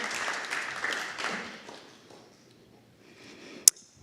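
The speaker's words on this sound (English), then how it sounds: "a round of applause for Melissa" Audience applause at a spiritual talk, welcoming a reader onto the stage. Broad clapping fills the first second and a half, then fades to scattered claps and a quiet room, with one sharp nearby knock near the end.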